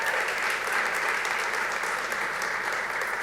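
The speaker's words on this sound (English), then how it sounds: "Let's give them a round of applause as well." At an awards event, a crowd claps in a sustained, even round of applause, dense and continuous from start to finish.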